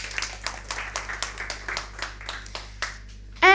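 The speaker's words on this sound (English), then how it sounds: "So a big round of applause for our media team." Sparse audience clapping at a conference event, a thin patter of separate hand claps with audible gaps, fading out before a sudden loud burst at the very end.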